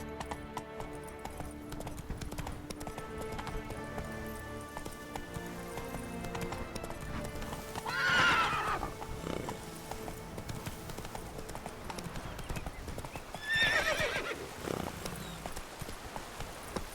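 Roach, the horse in The Witcher 3: Blood and Wine, gallops with a steady rapid clip-clop of hooves, and two loud whinnies rise above it partway through, with faint talk underneath.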